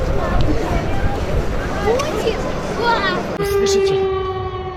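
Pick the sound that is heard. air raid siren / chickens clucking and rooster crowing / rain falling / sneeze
air raid siren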